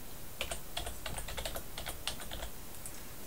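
Rapid keystrokes on a computer keyboard, a quick irregular run of light clicks close by, with no one speaking.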